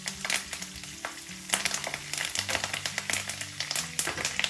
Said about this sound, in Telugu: దీనిలో ఇప్పుడు పచ్చిమిరపకాయలు వేసుకుందాం ఇవి వేగుతున్నప్పుడు కరివేపాకు వేసుకుందాం